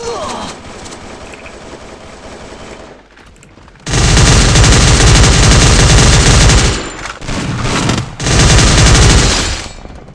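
Loud rapid automatic gunfire bursts from the battle royale game Free Fire, several sustained sprays separated by short gaps, with quieter game sounds and a voice beneath before the shooting starts.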